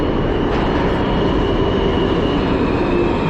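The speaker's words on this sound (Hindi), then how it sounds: "इस लाइन से आ रही है वो ट्रेन" A New York City subway train coming into a station, a loud continuous rumble and roar of rolling cars with faint rail squeal, heard close and steady throughout.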